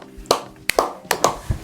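A five-year-old child tries hollow cupped-hand kuridza gusvu claps, about five close, uneven claps with gaps between them in a quiet room.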